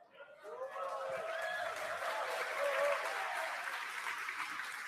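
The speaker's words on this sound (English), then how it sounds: "The crowd here reacting to that call out" Crowd at a Starship flight viewing cheers and applauds after a landing-burn callout, a steady wash of clapping and shouts with voices rising above it, heard from a distance.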